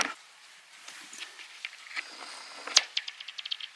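Rock thrown onto thin pond ice or slush, a scatter of soft crackles and skittering taps followed by a sharper crisp hit and a quick trail of small ringing clicks, faint and close.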